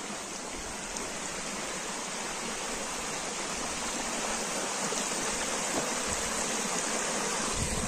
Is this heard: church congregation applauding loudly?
no